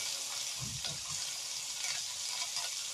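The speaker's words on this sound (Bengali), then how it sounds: "আমি এখানে চিকেনটা বসিয়ে দিয়েছি" Chicken with papaya cooks lightly in a pan, giving a steady soft sizzle with a brief low scrape or stir near the start, close and without talk.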